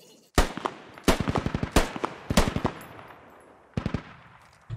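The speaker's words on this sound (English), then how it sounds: "I hear a machine gun on a Vic" Bursts of machine gun fire from a vehicle in Squad, a military video game, sounding as several short rattling volleys at a moderate distance with a pause before the last burst.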